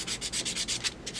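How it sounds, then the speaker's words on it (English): Coarse sandpaper rubs across the face of a Blythe doll in quick back-and-forth strokes, about ten close, scratchy passes in a steady rhythm, with no talking. "So just grind the way out that with the coarser sandpaper for a little minute,"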